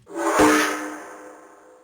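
A single synthetic whooshing tone from Five Nights at Freddy's that swells quickly and then slides and fades away over about two seconds, standing alone with no voices.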